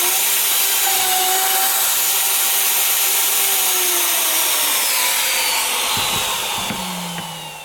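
A plunge router cuts a hole through a wooden template set on a sacrificial board in a circle-cutting jig. Its loud, continuous whine and rushing roar hold steady, then start to wind down near the end.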